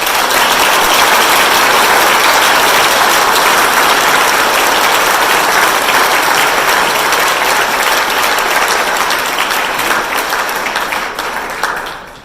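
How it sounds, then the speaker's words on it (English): A banquet-hall audience at a high school scholar banquet gives sustained, dense applause, loud and steady for about ten seconds before tapering off at the end. "That deserves a round of applause."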